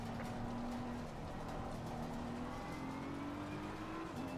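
A BMW GT4 race car engine in a racing game on the Nordschleife hums steadily at sustained revs, fairly quiet and continuous without a break.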